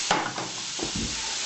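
Spinach leaves hit hot butter in a pan with a steady, bright sizzle and a few soft stirring knocks, close and continuous.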